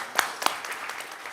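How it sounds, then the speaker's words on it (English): Applause from a board meeting audience, a couple of sharp claps standing out over a diffuse, fairly quiet patter that continues steadily for the brief moment. "Let's give him a round of applause."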